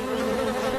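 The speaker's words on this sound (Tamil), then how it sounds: "தேனீக்கள் பறக்கிறத பார்த்தா பக்கத்துலதான் எங்கேயோ தேன் கூடு இருக்கணும்னு நினைக்கிறேன்." Cartoon bees buzz in a dense, steady drone that fills the brief moment, loud and close, with no talking over it.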